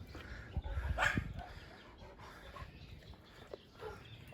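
A dog makes faint, soft yips and whimpers at low volume, with a brief louder burst early on amid quiet shuffling.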